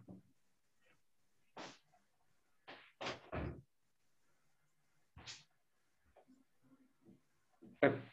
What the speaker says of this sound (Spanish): voy a cerrar la puerta porque se va a oír ruido